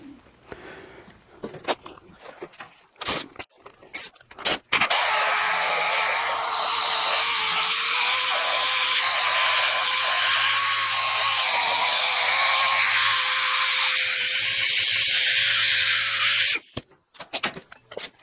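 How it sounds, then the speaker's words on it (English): A dual-action sander fitted with 100-grit paper smooths ground welds on a steel rolling workbench, running loud and steady for about twelve seconds after some brief clatter, then cutting off. "use some 100 grit on the DA just to kind of really take out some of the sanding marks"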